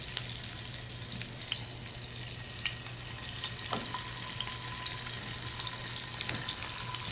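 Scallops and halibut searing in a pan on a natural gas stove give a steady, moderate sizzle with faint scattered pops and a low hum beneath, no voices present.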